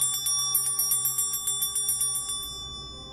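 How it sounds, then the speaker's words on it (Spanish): Small ritual bells ring in a quick, even series of bright metallic strikes, their shimmering tones overlapping and slowly fading out near the end. "porque las campanas mueven energía"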